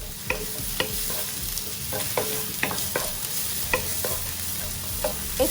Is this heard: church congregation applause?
no